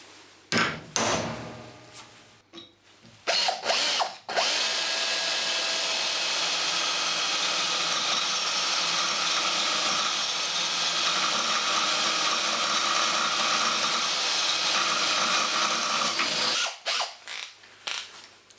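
A power drill with an 8.6mm bit bores a hole in metal, a sustained high whine lasting about twelve seconds after a few short starting bursts and knocks, close and steady, then tapering into brief clatter.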